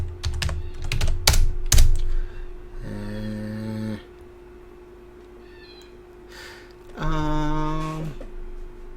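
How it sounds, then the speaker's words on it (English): Quick clattering keystrokes on a computer keyboard at the start, followed by two drawn-out cat meows separated by a quiet stretch. "So I'm just typing him in"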